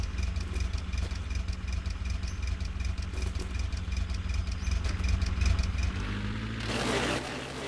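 A car engine idles and runs steadily in the driving game The Long Drive, a moderate mechanical drone with a fine rhythmic ticking that shifts near the end.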